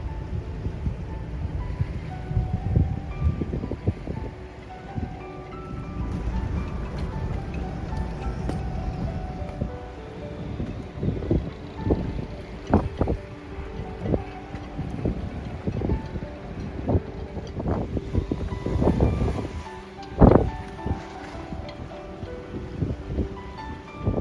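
Steady wind blowing across an open bay where kite surfers ride, a constant gusty rush buffeting the microphone with a few sharper bumps and no one speaking.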